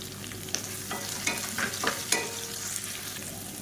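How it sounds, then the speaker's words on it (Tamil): Sliced large onions sauté in a hot pan, giving a steady soft sizzle broken by several scraping stirs of a utensil, close and alone with no talk. "மீடியம் சைஸாக 2 பெரிய வெங்காயம் நீளமாக நறுக்குனதை சேர்த்துக்கலாம்."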